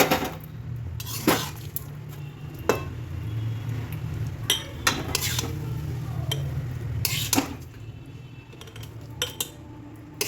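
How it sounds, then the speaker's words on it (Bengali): Mango pickle spooned into a glass jar, with repeated clinks and scrapes of a spoon against glass over a low rumbling background, fairly close and irregular. "এবার আচারটা আমি এই শিশিটাতে সুন্দর করে ঢেলে রাখবো।"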